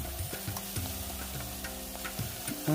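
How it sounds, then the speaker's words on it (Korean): Oyster mushrooms stir-fry in a pan with half a spoon of oyster sauce, giving a steady sizzle with repeated clicks and scrapes from stirring; close up, with no talking. "그리고 골고루 섞어서 볶아줍니다."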